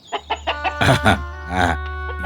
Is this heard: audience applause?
no